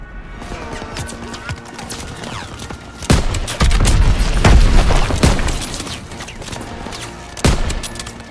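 Gunfire in a Call of Duty WW2 D-Day battle, including bolt-action rifle shots, with several loud sharp shots and booms over a continuous rumble of battle noise.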